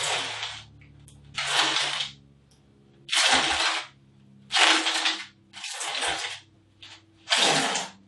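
Sandblasted bricks on a friction surface in a cranked earthquake demonstration lurch in a series of loud, harsh grinding bursts, about seven slips each lasting roughly half a second, separated by quieter pauses with a low mechanical hum.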